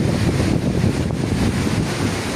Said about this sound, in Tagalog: Kapit ng dagat ngayon, ang lalakas ng alon.